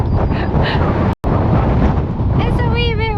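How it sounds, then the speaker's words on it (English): Strong gusting wind buffets the microphone on a windy hilltop, a loud roaring rumble that drops out for a moment before returning, with a voice calling out near the end. "It's a wee bit windy up here."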